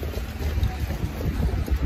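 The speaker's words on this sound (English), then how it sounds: "It's windy" Steady, rumbling wind buffets the microphone, a continuous low roar with gusty swells and no voices.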